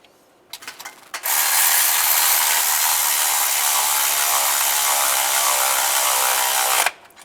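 A ratchet tightens belt tensioner bolts on a 2007-2013 Chevy Silverado during a timing chain job. A few clicks come first, then a loud, steady whirring run of about five and a half seconds that stops abruptly, close up with no talking.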